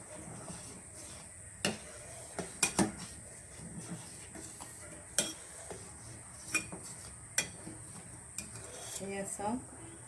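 A spoon scrapes and taps against a pot while milk curdled with lemon juice is stirred, the metallic clinks coming in scattered bursts over a faint background hiss.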